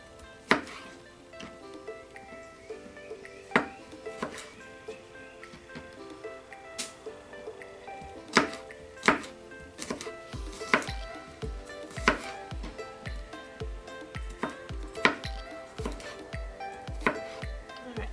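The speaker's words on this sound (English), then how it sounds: "I'm just dicing them up just a little bit so you don't get this big chunk of garlic" Knife chopping garlic cloves on a cutting board, a steady run of sharp taps that speeds into quick repeated chops in the second half. The chopping is close and moderately loud, with faint kitchen clatter behind it.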